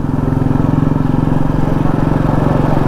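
A BMW S1000RR sport bike's engine drones loud and close in a steady low pulsing rumble, holding an even note as it rides off in first gear.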